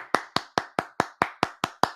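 Two sports podcast hosts clap by hand in a studio, nine crisp, evenly spaced claps close to the mic, sharp and alone with no talking.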